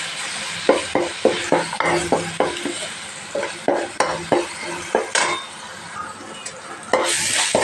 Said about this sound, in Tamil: ஆயில் ஊற்றிக்கிறேன் அரைச்ச விழுது இதில் சேர்த்திடுறேன்